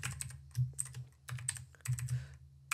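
Someone types on a computer keyboard while coding in MATLAB, producing a few short bursts of close, crisp key clicks separated by brief pauses, with a low steady hum underneath.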